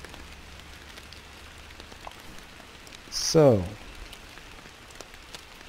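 Steady rain falls in the Fishing Planet fishing game, a constant soft hiss throughout with one brief louder burst of sound near the middle.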